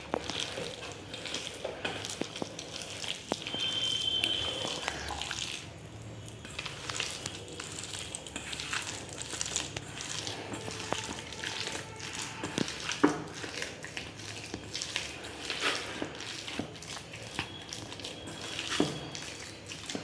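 Pakoras frying in a pan of hot oil give a steady, crackling sizzle that runs throughout, with occasional stirring clinks and brief splashes of running water nearby.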